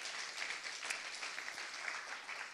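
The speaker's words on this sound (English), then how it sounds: "Could just give God our very best clap offering" A church congregation at a Sunday service in Manila claps together in steady, dense applause that fills the space, with no voices rising above it.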